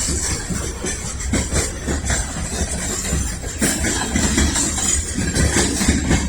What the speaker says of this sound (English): the train is pulling straight out of the yard